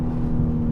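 An all-wheel-drive 500 hp BMW M3 accelerating hard after a launch, its engine a loud, steady close-up drone with a constant deep tone and no talk.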